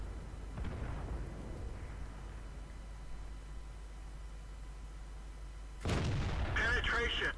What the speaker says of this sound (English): One more shot into the KV2, decapping again.